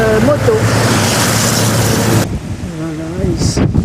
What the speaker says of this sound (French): Là, il y a un passage de moto.